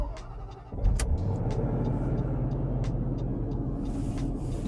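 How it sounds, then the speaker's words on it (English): A car engine cranks and catches in a short burst, then settles into a steady low idle rumble that carries on close by, with faint clicks above it and nobody speaking. "Tap confirm and start the vehicle."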